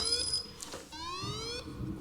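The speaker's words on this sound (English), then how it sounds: "it'll do a little alarm on your phone and then do an alert" Short electronic alert tones from a phone, the Aleck crash sensor app for a Smith Triad MIPS Koroyd cycling helmet running in simulation mode, sounding as a quick series of rising beeps at moderate volume with no talk over them.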